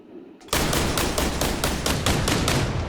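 Vehicle-mounted machine gun in Arma fires a sudden, loud sustained burst of rapid rhythmic shots that begins after a brief quiet moment and carries on without a break.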